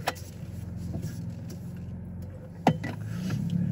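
A sixth-generation Ford Bronco pulls away with a low, steady engine rumble and road noise close by, a brief sharp clunk partway through and the drone building toward the end.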